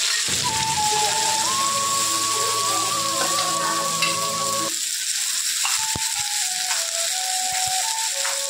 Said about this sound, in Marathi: तेल गरम झालेलं आहे कढईमध्ये। त्याच्यामध्ये आता हा कांदा ऍड करूया